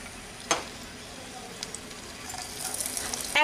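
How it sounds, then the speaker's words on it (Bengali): Chopped garlic fries in refined oil in a kadai, giving a quiet sizzling hiss with a sharp click early on and frying noise that swells toward the end. "ওই কড়াইতে আমি দিয়ে দিলাম 2 টেবিল চামচ রিফাইন তেল। তেলের মধ্যে দিয়ে দিলাম 5 থেকে 6 কোয়া রসুন কুচি"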